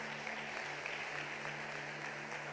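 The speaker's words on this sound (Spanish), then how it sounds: "Démosle ese aplauso a Jesús" Church congregation applause as a steady, soft wash of clapping, fairly distant and low in level, with a faint constant hum underneath.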